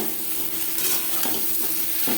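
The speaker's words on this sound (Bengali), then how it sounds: "আলু পটলের সাথে মশলা বেশ ভালো করে মিক্স করে দেবো।" Potatoes and pointed gourd stirred with spices in a sizzling pan, a continuous frying hiss with soft scraping strokes of the spoon against the pan, no talking.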